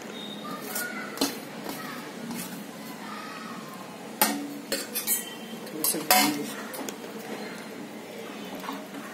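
Raw mango slices tumble into a cooking pot with a series of sharp metallic clinks and clatters from spoon and vessel, close and intermittent, with a quiet voice talking in between.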